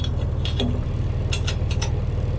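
Close ratcheting clicks and metallic turns as set bolts on bed rails are loosened, several quick bursts over a steady low background hum.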